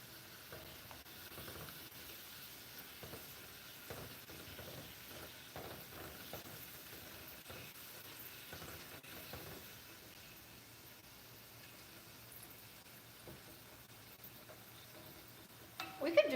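Chips frying in hot oil make a faint, steady sizzle with occasional soft stirring clicks, and the frying continues unbroken throughout.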